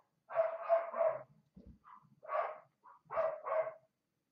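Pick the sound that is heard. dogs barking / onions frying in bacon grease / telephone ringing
dogs barking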